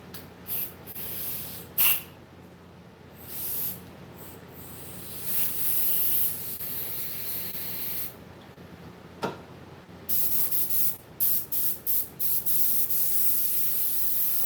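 An airbrush being cleaned sprays carburetor cleaner in short hissing bursts, irregular at first, then a longer spray and a quick series of rapid puffs toward the end, close and fairly quiet.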